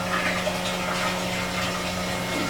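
Water pump in a greenhouse circulating water through a blue tube to a barrel heater and back, a steady close hum with a constant tonal drone and soft trickling water, no talk.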